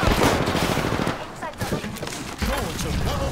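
Rapid automatic gunfire from the battle royale game Apex Legends rattles in loud, dense bursts that ease briefly midway and then resume, with players' voices mixed underneath.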